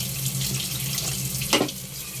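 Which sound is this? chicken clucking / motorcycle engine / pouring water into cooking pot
pouring water into cooking pot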